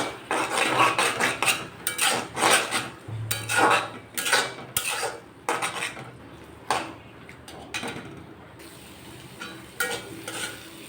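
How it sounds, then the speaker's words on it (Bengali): Repeated metal scraping and clanking of a spatula against a pan as frying vegetables and egg are stirred together, in close, irregular bursts over a soft sizzle, with no talking. "ভালোভাবে মিশিয়ে নিব"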